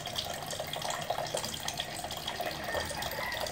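Evaporated milk pours steadily into a mix for homemade ice candy, a soft continuous liquid splashing and trickling heard alone at moderate volume.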